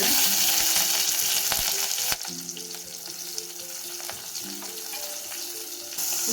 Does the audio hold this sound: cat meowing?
no